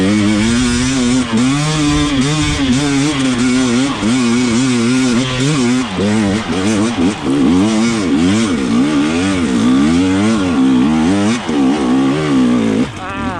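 A dirt bike engine revs hard and continuously as it climbs a steep trail hill in first and second gear, its pitch rising and falling with throttle bursts, loud and close throughout.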